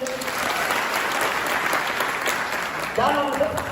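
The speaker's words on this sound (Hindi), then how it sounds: "जोरदार ताली बजाओ सर के लिए।" Audience applause at a one-day training session, steady and fairly loud from a crowded room, with a voice cutting in over the clapping near the end.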